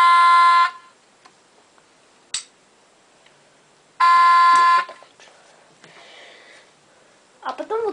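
Two loud electronic beeps from a homemade LEGO Mindstorms robot, each under a second and spaced a few seconds apart, with quieter clicks and brief sounds between them.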